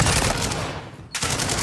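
A turret in Modern Warfare 2 DMZ fires in a loud, dense burst, breaks off for a moment, then opens up again.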